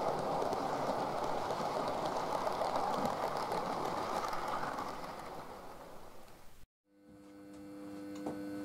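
A model train runs on a large Little Bytham layout, giving a steady rolling rumble for about seven seconds before the sound cuts out and a quieter hum with faint tones follows.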